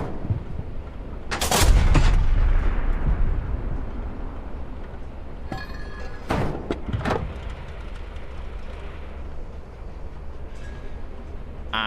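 In a tank video game, an anti-tank gun fires a loud booming shot followed by a lingering rumble, then two more sharp, heavy blasts a few seconds later.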